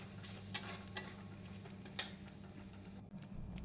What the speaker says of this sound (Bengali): এবার এটাকে কিন্তু মশলার সাথে ভালো করে কষিয়ে নিচ্ছি